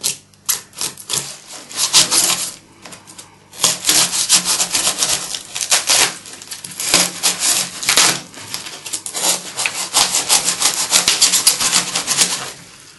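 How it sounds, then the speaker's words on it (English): A Surform rasp and sandpaper shape and round the edges of a polystyrene fish body for a mounted rainbow trout. The scraping comes in loud, close bursts of rhythmic rubbing strokes, broken by short pauses, with no voices. "now we need to go and use the Surform and sandpaper to round all these edges off"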